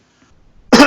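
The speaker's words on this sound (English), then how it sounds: "It gives me dry coughs." A single dry cough from a man, sudden and close after a near-silent pause, short and forceful.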